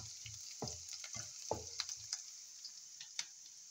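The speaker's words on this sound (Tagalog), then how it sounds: "Now let's start saute now. Garlic is already brown," Garlic and onions sauté in a pan for a village-style string bean dish, a steady soft sizzle with scattered crackles and a few sharp stirring clicks and knocks near the start.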